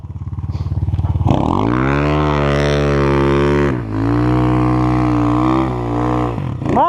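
A dirt motorcycle engine stuck in a forest revs up from a chugging idle into a sustained high whine, dipping briefly and surging again, loud and close throughout.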